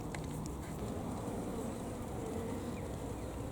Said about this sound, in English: Sorry, big swarm.